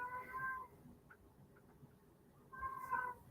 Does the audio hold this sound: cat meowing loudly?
yes